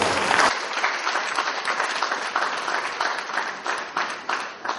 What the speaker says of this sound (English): I'm sure we can put our hands together and give you a round of